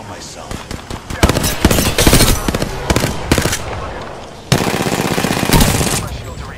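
In Apex Legends, loud bursts of automatic gunfire rattle in rapid clusters, breaking off and then resuming in a fresh heavy volley, with no voices over the shooting.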